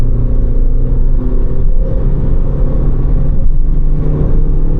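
A Skoda Rapid Spaceback 1.6 TDI diesel engine drones loudly from inside the cabin as the car accelerates, a steady low rumble with tonal whine layered over it that continues unbroken throughout.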